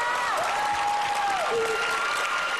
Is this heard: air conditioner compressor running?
no